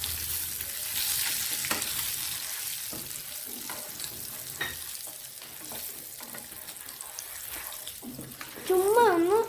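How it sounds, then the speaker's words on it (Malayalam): Crushed peanuts lightly frying in a pan for a capsicum fry, a soft steady sizzle with occasional quiet stirring scrapes, and a brief wavering whistle-like tone near the end. "ഇനി നമുക്ക് ഇതൊന്ന് ലൈറ്റായിട്ടൊന്ന് ഫ്രൈ ചെയ്തെടുക്കാം"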